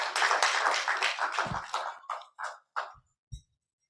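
An audience at a Ugandan national development plan presentation claps briefly, a short burst that thins out quickly into a handful of scattered, isolated claps before falling silent.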